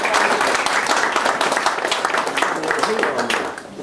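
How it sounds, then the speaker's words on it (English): Guests at a wedding reception applaud during the speeches, a dense, lively round of clapping from a room full of people that tapers off at the end, with faint voices underneath. "So a round of applause for Dawn"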